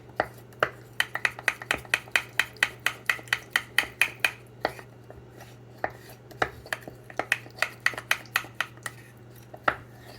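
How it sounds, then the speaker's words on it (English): White truffle oil dipping sauce stirred briskly in a small container, a utensil clinking and tapping rapidly against the sides in quick bursts with short pauses. "I'm just going to stir that."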